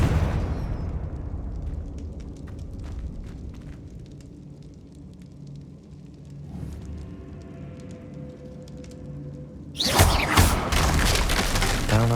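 A Confringo fire spell explodes in the Hogwarts Legacy video game, a loud burst that opens with a broad crackling boom, fades into rumbling debris, then returns as a second sharp blast near the end.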